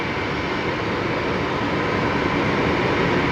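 An airliner at Brisbane Airport roars past in a dense, steady wash of broadband engine noise, loud and constant for the whole short stretch with no voices.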